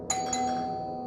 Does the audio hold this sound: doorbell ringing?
yes